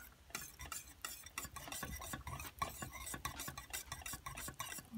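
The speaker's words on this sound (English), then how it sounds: "Okay, it's all stirred in." A spoon stirs stove-top rice pudding in a dish, scraping and clinking in a steady, busy rhythm close by, with no voices over it.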